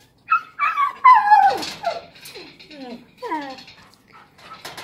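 Several dogs yipping, whimpering and barking excitedly nearby in a series of high, rising and falling cries, with a person speaking softly among them.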